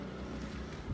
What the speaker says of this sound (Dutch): nu toevallig net een brommer die daar staat te ronken